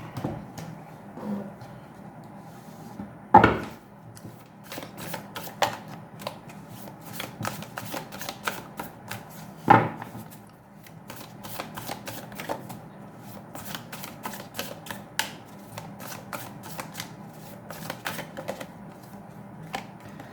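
Tarot cards being shuffled at close range, a steady, soft riffling and flicking that continues throughout with two sharper slaps along the way, and no speech over it.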